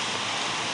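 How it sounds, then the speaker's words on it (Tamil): Steady rain falls close by, a dense, even hiss of noise that continues unbroken, with no voices. "மழை பெய்யுது மக்களே"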